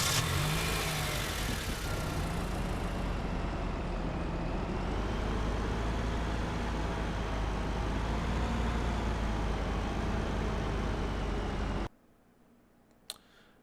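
Car engine in the video game Car Dealer Simulator, a steady droning hum while driving that holds for about twelve seconds and then cuts off abruptly, leaving near silence with a small click.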